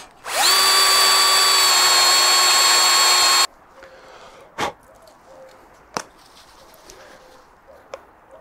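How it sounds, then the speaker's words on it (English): A power drill fitted with a cleaning attachment whines loudly at a steady high pitch for about three seconds, then stops, leaving a few sharp knocks and clicks in a quiet room. "give it a bit of a clean up with this cheap drill attachment"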